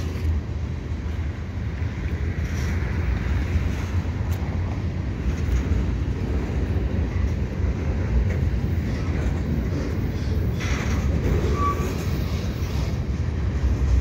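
Freight train cars roll past nearby, some of them tank cars and others carrying steel loads. A steady, loud rumble with clacking wheels holds for the whole stretch, and no one talks over it.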